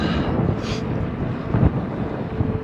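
Strong wind buffets the microphone while cycling along a straight desert road in Baja California, producing a continuous low, gusty rumble that swells in a few bursts, with no talking.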